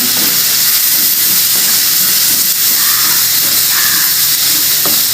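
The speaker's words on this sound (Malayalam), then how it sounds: "ഇപ്പോൾ തക്കാളി ഇട്ട് വഴറ്റി കൊടുക്കാം" Tomatoes sautéing for an onion mutton fry give a steady, loud hissing sizzle that fills the clip, with faint scraping of a spoon in the pan.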